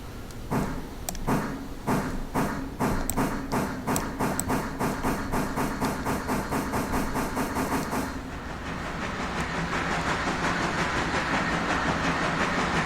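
A train departs Natahala in the railroad game Railroader with a fast, regular clickety-clack of wheels over rail joints, which gives way to a smoother, steady rolling roar as it gathers speed.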